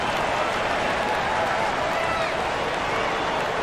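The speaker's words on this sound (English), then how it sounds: "Let's give a round of applause for your Clippers." A dense, steady roar of crowd applause and cheering fills an arena in the NBA 2K24 basketball video game, continuous and loud throughout.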